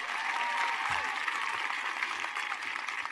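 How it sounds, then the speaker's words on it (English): A high school graduation crowd applauds continuously, a dense, even wash of many clapping hands that holds steady throughout at moderate distance. "How about another round of applause for that amazing speech by Grace Desai?"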